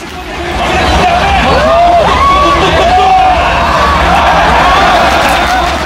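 A packed arena crowd at a League of Legends Worlds esports match at BEXCO in Busan makes a continuous roaring babble, with rising whoops and shouts swelling through the middle.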